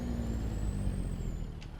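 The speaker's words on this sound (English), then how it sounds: "It's got a good Jake brake sound on it." A modded heavy truck in a driving game makes a steady low engine drone with a high turbo whine that rises and then falls away, ending with a short hiss.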